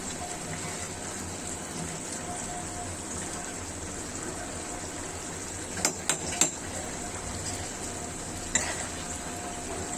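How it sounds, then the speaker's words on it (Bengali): Boiled chickpeas and cabbage are mixed together in a pan with a spatula: a continuous soft scraping, stirring hiss runs throughout, with a few sharper clinks of utensil against the pan near the middle. "ছোলাটাকে মাখামাখো করে ফেলছি"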